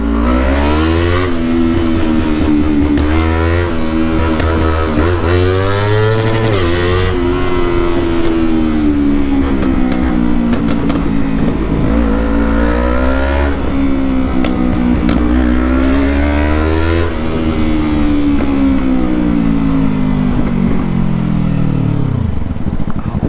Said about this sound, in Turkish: Çok güzel kükremiyor mu? Yamaha gerçekten bu işi yapıyor.